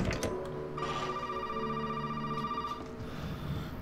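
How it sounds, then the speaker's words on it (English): A telephone rings in the horror video game Resident Evil 7, a steady electronic ring tone held for a couple of seconds, moderately loud. "Damn this phone."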